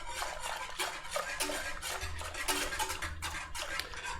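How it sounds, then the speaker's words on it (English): A whisk scraping and stirring steadily through cornmeal and liquid in a non-stick pan while making grits, a close, continuous rhythmic swishing with light metallic clicks and no talking. "you want it to whisk it just for a minute to make sure there's no lumps in there"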